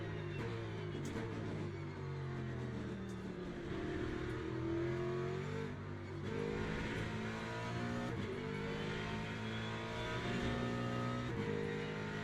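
A race car engine revs steadily on a push lap in the Le Mans Ultimate racing game, the pitch rising and falling through gear changes over about twelve seconds at moderate level, with no talk.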